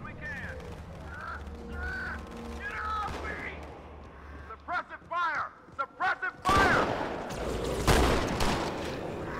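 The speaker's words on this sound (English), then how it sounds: "Hey, they gave me a plasma gun now." A plasma gun firing in Halo 2 Anniversary: a burst of rapid, sharp electronic shots near the end, preceded by chattering alien voices and short choppy game effects, fairly close and loud.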